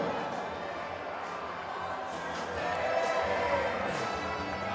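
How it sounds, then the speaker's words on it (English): Steady stadium crowd roar at a rugby league match between the Kangaroos and New Zealand Kiwis at Waikato Stadium, a continuous broad wash of many voices that swells slightly midway, with no distinct commentary over it. "The crowd enjoying themselves here at Waikato Stadium"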